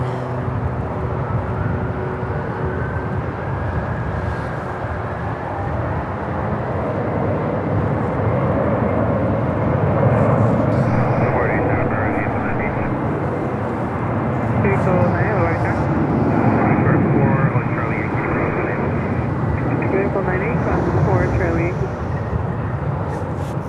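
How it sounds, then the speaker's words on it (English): An ABX Air Boeing 767-300 departs from a snowy winter airport, its engines producing a steady, broad roaring rumble that swells slightly midway and holds for over twenty seconds beneath wind noise. "we are waiting for this ABX Air 767-300 taken off to Louisville, Kentucky"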